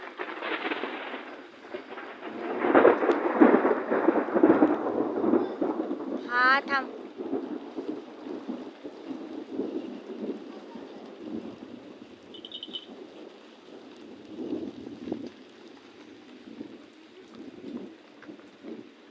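Heavy rain pours down in a thunderstorm with strong wind, a loud broad roar that is strongest early and then eases into a steady downpour, with people talking at times over it.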